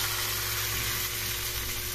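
Mustard seeds and coarse cumin crackle and sizzle steadily in hot oil for a chutney tadka, a close, continuous frying hiss with no talk.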